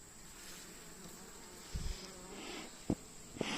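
Honey bees buzzing around an open hive during an inspection on an overcast day, a close, steady high drone throughout, with a few dull knocks of handling near the end.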